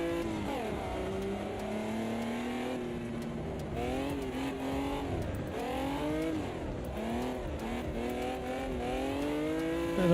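Race car engine held under throttle in a racing video game, a loud continuous drone with rising and falling pitch sweeps as it revs through gears, close and steady for the whole stretch.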